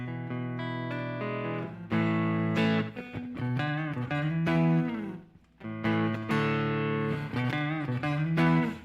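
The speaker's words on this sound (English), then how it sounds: "the guitar you're hearing is just like, all I have on is reverb and a little bit of, I got my EP booster" Electric guitar, a Telecaster, played clean with reverb and an EP booster pedal, ringing sustained chords and melodic bends in two loud phrases with a brief pause between, no voice.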